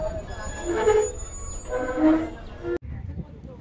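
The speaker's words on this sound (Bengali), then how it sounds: "বাংলাবান্ধা এক্সপ্রেস দুপুর 3:13 এসে থেমে গেল রানীনগর রেলওয়ে স্টেশন।" Banglabandha Express train pulling to a halt at Raninagar railway station in Naogaon, with loud rumbling and squealing wheels, a sharp clank near the end, then the idling hum of the stopped train.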